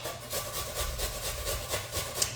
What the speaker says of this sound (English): I'm just going to grate my apple. I'm grating it on the largest setting.